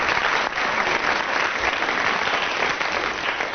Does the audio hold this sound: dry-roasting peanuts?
no